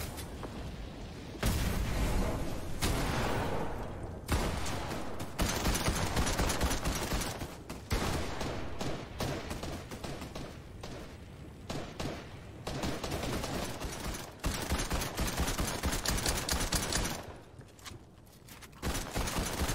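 Fortnite gunfire crackles in dense, loud bursts of rapid shots over most of the stretch, broken by brief lulls, with a game soundscape underneath.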